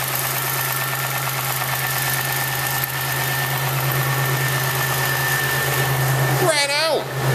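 Swapped engine idling in a Chevrolet Lumina, a steady close low hum with a slight knock, then a brief whine sweeping down at the end.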